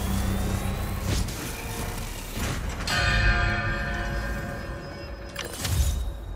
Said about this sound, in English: I need to ring this someplace with more echo.